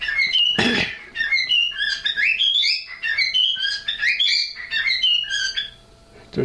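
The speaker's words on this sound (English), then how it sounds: "Shut up, bird." A bird repeatedly squawks and calls in loud, close bursts of shrill, pitch-sliding notes, nearly continuous over several seconds with brief pauses and a steady faint hum underneath.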